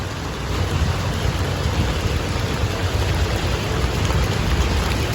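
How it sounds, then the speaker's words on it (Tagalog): Heavy rain pours down steadily in Antipolo, Philippines, a dense, loud roar of water hitting surfaces with no gaps, close and constant throughout. "Lakas ulan o, dito tayo."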